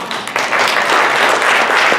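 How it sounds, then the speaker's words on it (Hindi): A loud burst of audience applause fills a lecture hall at a Hindi center event at Rutgers, dense clapping swelling quickly and holding steady for a couple of seconds. "तालियां दें"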